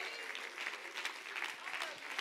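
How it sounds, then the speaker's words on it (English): A church congregation claps hands in a brief burst of energetic, uneven applause, with voices faintly mixed in underneath. "Somebody clap your hands to the Lord here today."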